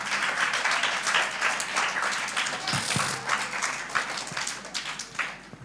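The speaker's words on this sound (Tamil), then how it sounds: "உங்களுக்காகவே ஒரு கைத்தட்டல் கொடுக்கலாம்." An audience applauds children at a birthday remembrance cake-cutting celebration, with dense, continuous clapping that softens and turns more scattered toward the end.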